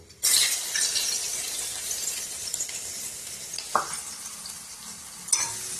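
Onion hits hot oil in a wok already holding whole garam masala (cinnamon, cardamom and cloves) for a duck curry, bursting into a loud, steady close sizzle with occasional clinks of a stirring utensil.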